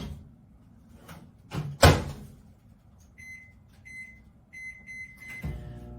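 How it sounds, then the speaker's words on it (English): A microwave oven door opens with a loud clunk and a sweet potato is set inside, followed by a series of short keypad beeps and a final door thump. "get this sweet potato in the microwave"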